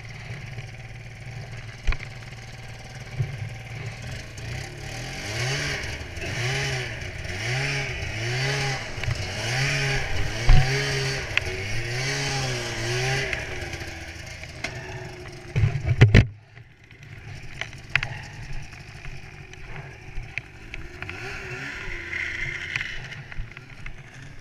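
A stuck vehicle's engine revs in repeated rising and falling surges under strain, fairly close and loud, then cuts off with a sharp thump partway through, leaving a quieter running hum.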